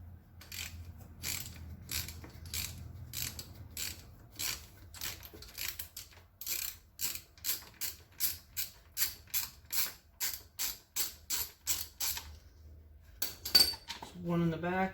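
Ratchet wrench clicking rapidly in repeated bursts while removing 12mm bolts from the differential cover of a 2016 Honda Rancher ATV, close and crisp, with brief pauses between strokes and a faint voice near the end.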